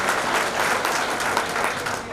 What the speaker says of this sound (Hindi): जोरदार तालियां बजाय से सबने स्वागत करना है।